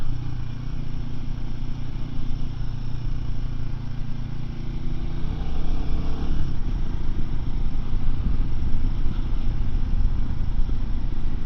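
A 2024 Royal Enfield Himalayan 450 motorcycle ridden along twisty roads holds a steady, loud engine drone with wind rush, and the pitch rises slightly partway through as the rider opens the throttle.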